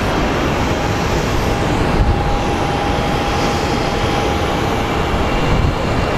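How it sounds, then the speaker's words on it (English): Passenger airliner arriving at Phoenix Sky Harbor on a flight from Dallas, a steady, loud broadband engine roar that holds constant throughout with a faint whining tone, no talk. "And our flight from Dallas is arriving."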